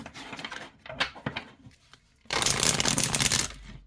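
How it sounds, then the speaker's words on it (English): A crystal oracle card deck is shuffled by hand: a few soft, separate card flicks and taps give way to a dense, loud burst of riffling cards that runs continuously to the end. "And it shuffles really nice."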